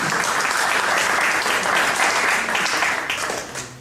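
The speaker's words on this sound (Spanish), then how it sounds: "Le damos un aplauso." Steady audience applause at a book presentation: dense, even clapping from a seated crowd that lasts nearly four seconds before it starts to thin out near the end.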